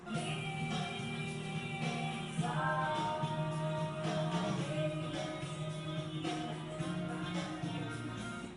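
Instrumental music plays steadily with sustained harmonic tones and a full backing texture, no lead vocal standing out, slightly thin and processed.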